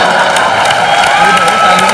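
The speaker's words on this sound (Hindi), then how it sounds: "लोग ताली भी बजाते" Studio audience applause on a comedy talk show, a dense steady wash of clapping and cheering that holds at full volume throughout.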